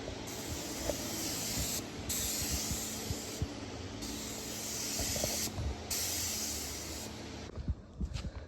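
A spray gun hisses on and off in about four long bursts while paint goes onto a car vent during the restoration of a Mitsubishi Lancer Evolution. Handling noises sit underneath the spraying, and the spray stops near the end.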